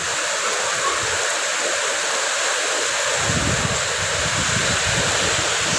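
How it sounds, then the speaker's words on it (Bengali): A downpour of heavy rain hisses loud and unbroken nearby, while gusty wind adds a rumbling buffet in the low end from midway onward. "এত পরিমাণ বৃষ্টি নামছে যা বলার বাহিরে।"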